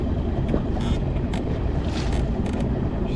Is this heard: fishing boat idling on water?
yes